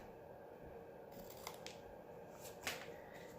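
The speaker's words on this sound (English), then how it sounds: "I cut them, turn it over, cut again, and just cut my little corners off." Scissors snip the corners off small handmade paper key tags at a craft table, giving a few quiet, crisp cuts in close succession against a soft room hush.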